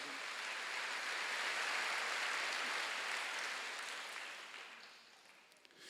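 Church congregation applauding during a Wednesday worship service, a dense, even wash of many hands clapping that swells and then fades away.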